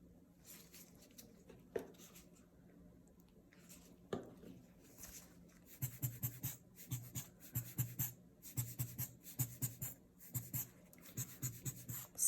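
A Copic marker tip, loaded with B26 Cobalt Blue refill ink, strokes across paper while swatching colours, making quiet scratchy scribbles in short repeated bursts that become a quick, steady rhythm in the second half.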